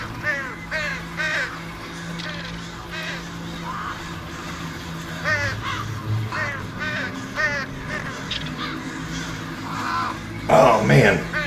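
Crows in the VR game Fowl Play caw again and again as a flock, rough calls scattered across the whole stretch, some near and loud, with a human voice talking over them and a sharp loud burst near the end.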